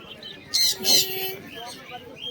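Desi pigeons at a Birnagar village market pigeon sale give soft, nearby calls, with a brief burst of chirps and a low coo partway through over faint market background.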